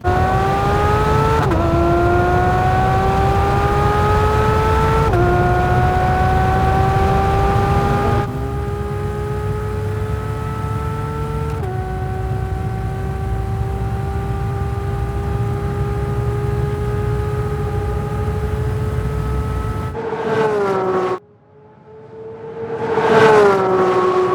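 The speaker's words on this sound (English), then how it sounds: "I'm gonna play some engine clips for you because Porsche, of course, wanted you guys to hear what this motor sounds like at full boil" A 2022 Porsche 911 GT3 (992) race car engine revs toward 9,000 RPM, loud and close, climbing in several stepped pulls with a sharp cut near the end before one last rising rev.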